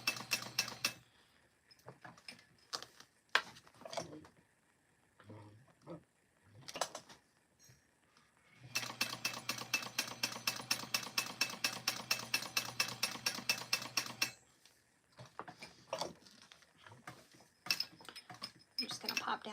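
A sewing machine topstitches a strawberry-themed crossbody bag: a long run of rapid, even mechanical stitching thumps in the middle, bracketed by shorter bursts and pauses.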